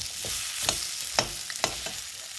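Mutton trotters frying in masala and oil, a close sizzle with a few sharp stirring scrapes and clicks from a spoon in the pan, no voices.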